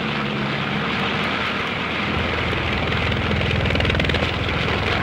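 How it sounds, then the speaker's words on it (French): Four aircraft engines at full throttle, a dense, steady roar that swells slightly and stays loud and close throughout, with no voices over it. "Le pilote tire sur les manettes des gaz, fait gronder les 4 moteurs de toute leur puissance."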